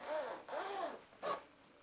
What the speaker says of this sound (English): Let me test the zipper.